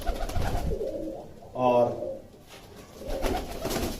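A pigeon, one of a village flock of umbrella pigeons, gives a single rolling coo lasting about half a second, close by, between stretches of someone speaking.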